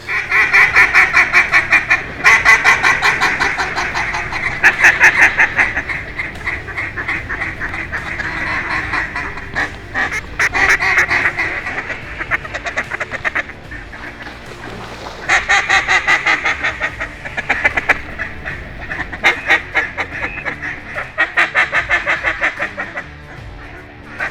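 Dense flock of ducks quacking and geese honking among flooded willows during a duck hunt, loud and continuous calling in repeated waves throughout.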